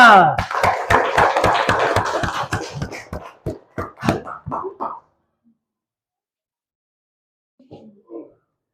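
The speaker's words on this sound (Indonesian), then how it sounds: "Sekarang tepuk tangan semua." A school class claps together in a steady rhythm, about a dozen sharp, loud, evenly spaced claps that slow and break up before falling silent, with a brief voice near the end.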